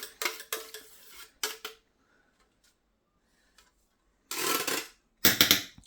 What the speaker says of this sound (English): if it's stuck inside, then just scoop it out with my knife